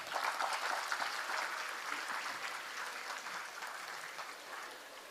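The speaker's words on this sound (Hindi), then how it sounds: "मैं चाहूँगा आप ज़ोरदार इनके लिए तालियां बजाएं." Audience applause for a nursery school marking 25 years, a steady broadband patter of many hands lasting several seconds at moderate level, slowly tapering toward the end.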